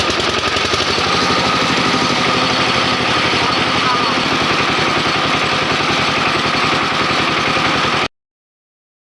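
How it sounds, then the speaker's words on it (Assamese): A tractor engine runs close by with a loud, steady, rapid chugging throb, while a voice talks over it, then cuts off abruptly into silence near the end. "এয়া ট্ৰেক্টৰ ষ্টাৰ্ট দি আছে"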